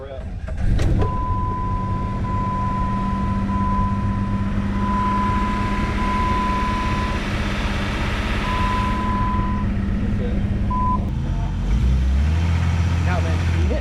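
A Jeep with a quarter tank of fuel runs steadily and loudly throughout, its low engine drone sustained with a thin tonal whine and a few beeps, and a voice talking briefly over it.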